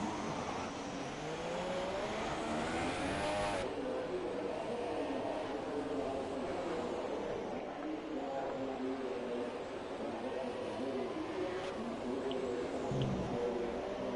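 Race car engines in RDF1 on PS4 at the Spanish circuit in the 2018 season: high-pitched engine whine revving and shifting through gears, with pitch sweeps as cars pass, steady throughout under occasional faint commentary.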